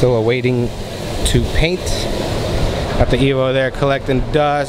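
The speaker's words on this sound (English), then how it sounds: "Sorry about the fan noise." A steady whooshing fan drones underneath as someone talks close by throughout.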